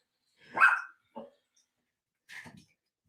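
A pet dog named Sultan indoors lets out a loud close bark, then two shorter, quieter yips spaced about a second apart, with no other sound between.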